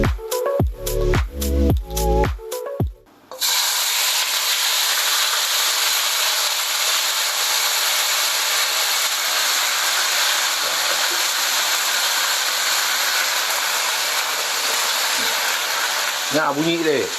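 Marinated lamb and beef hit a hot wok after a few seconds of talk, then a loud, steady broadband sizzle hisses on unbroken, with a brief clink near the end.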